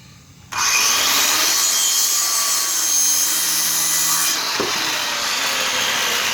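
A power saw cuts boards for a goat bench, starting abruptly after a short pause and running as a loud, sustained, harsh rasping buzz for several seconds, close up with no talking, its pitch shifting slightly partway through the cut.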